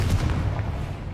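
A Confringo fire spell cast in the video game Hogwarts Legacy lands as a dense, booming blast with a rumbling low end that holds for about a second, loud and alone.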